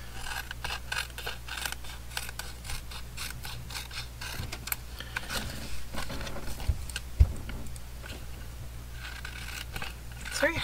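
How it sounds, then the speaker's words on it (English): Scissors snip through a plastic bag in a series of quick close crisp cuts and rustles, irregular and repeated, with a low steady hum underneath and no speech. "It's very hard to cut plastic bag, but I find if you just kind of run your scissors over the top of the paper, it's a little easier."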